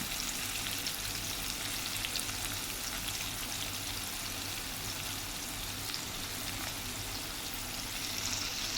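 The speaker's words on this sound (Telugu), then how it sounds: "మనకి దొండకాయలు అనేది ఫ్రై అవుతాయి కాబట్టి వాటితో పాటు ఇవి కూడా మగ్గుతాయి అన్నమాట" Ivy gourd (dondakaya) fries in a pan with a steady, even hiss and crackle of oil that stays constant and fairly soft throughout, with no talking.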